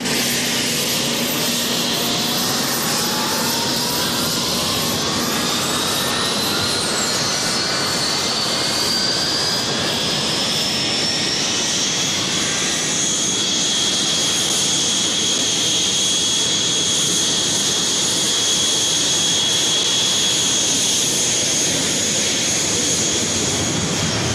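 An Argentine Navy jet armed with Exocet missiles takes off from an airfield in southern Argentina, a loud turbine roar with whines sweeping upward in pitch and holding, continuous and close.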